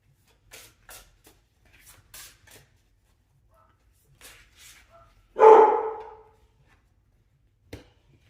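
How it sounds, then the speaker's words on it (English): An indoor dog lets out one loud bark answering another dog outside, following a few faint, short yips and rustles in an otherwise quiet room; a last soft sound comes near the end. "I don't know if you guys can hear my dog in the background."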